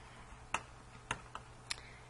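A handful of sparse, faint key presses click on a computer keyboard in a quiet room, spaced irregularly about half a second apart.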